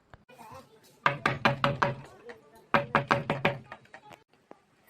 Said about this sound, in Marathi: दरवाजाचा आवाज आला ना